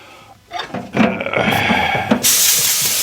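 Compressed air blasts out a freshly drilled hole in a Corvair cam gear, a short loud hiss that swells after a couple of faint bumps and holds for about a second and a half.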